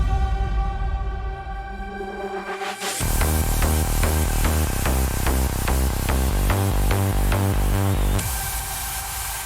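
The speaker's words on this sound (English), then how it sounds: "This just adds so much energy, all this white noise." A bright wash of layered white noise sweeps in over a pounding rave-style electronic dance beat, filling the top end and staying loud and steady.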